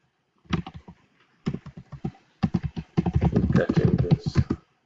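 Clicky computer keyboard typing close up, arriving in short bursts of rapid keystrokes separated by brief pauses, then a longer dense run of fast keypresses toward the end.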